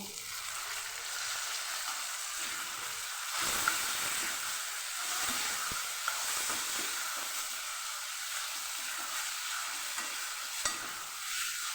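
Chopped tomatoes hiss and sizzle as they fry with softened onions in a pan for a Ratlami sev tomato curry, a steady broadband frying noise with a few brief clicks of stirring.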